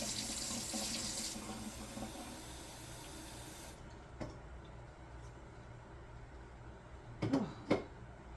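Water from a tap pours into a glass or sink in a steady, close hiss, cutting off after a few seconds and followed by faint clicks and clinks.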